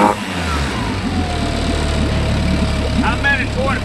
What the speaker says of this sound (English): you're seeing it run. I can't rev it all the way up because it's got a rev limiter on it.